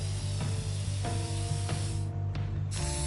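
A spray paint can hisses in the inFAMOUS Second Son video game, a steady loud spray broken by short pauses and rattling accents, playing alone without talk.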